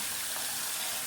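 Tap water gushes steadily and fairly close for a brief moment while a plastic dye bottle lid is rinsed, a continuous hissing flow with no voices.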